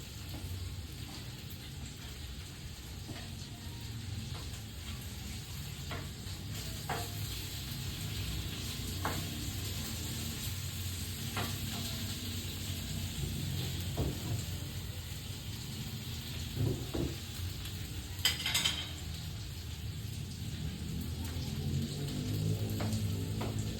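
Pork barbecue sizzles and fries steadily in a pan on the stove, a continuous crackling hiss with occasional brief clinks and stirring noises, close and even throughout.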